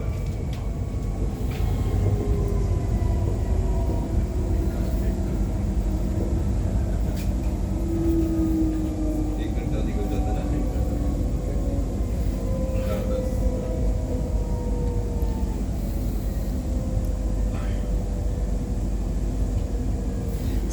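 Transperth C-series electric train running on the Perth line near Thornlie, a steady loud low rumble and rolling drone throughout with gliding motor whine tones rising and falling, heard from inside.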